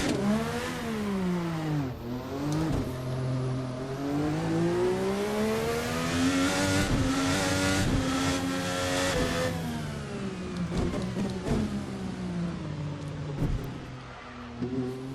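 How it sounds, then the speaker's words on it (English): A Formula NA 2018 race car engine in a racing game revs and climbs through the gears, its pitch rising and dropping with quick shifts and crackles on overrun, loud and continuous throughout. "nice sounds from the engine, nice gear change sound effects, nice crackles on overrun"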